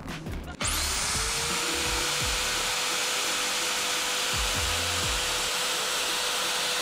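A power drill running at maximum speed from a Romoss X1000 portable power station whines loudly and steadily after a brief start, spinning up and holding a constant motor drone throughout with faint low knocks underneath.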